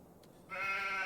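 Sheep in the Farming Simulator 25 video game give a steady, sustained bleat that rises in and holds to the end, loud and close, with no talking over it.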